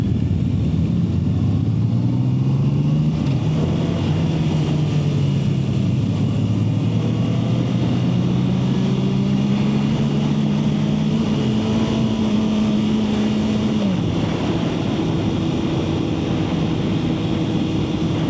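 A 2026 Honda CB650R motorcycle engine revs loudly and close in first gear, its pitch climbing and holding in steady drawn-out pulls, then dropping away before rising again.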